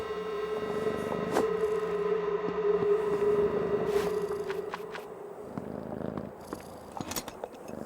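A cat purrs in the game Creepy Tale 2, a steady close purr carrying across the first few seconds under a soft ambient score, fading toward scattered footstep-like taps near the end.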